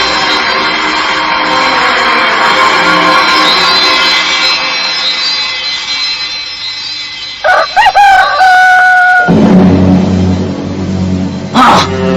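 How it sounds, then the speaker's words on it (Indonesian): A loud, drawn-out rooster crow up close, followed by another crow and clucking, with a brief sharp noise near the end. "Suara ayam berkokok"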